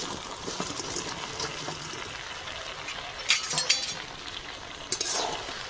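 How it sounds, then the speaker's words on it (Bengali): Chicken being added and stirred into a spiced masala frying in a pan, with a steady sizzle and a few louder scraping bursts of the spoon, close, with no talking. "সব কিছু মশলা কষানো হয়ে গেছে, চিকেন দিয়ে দেবো।"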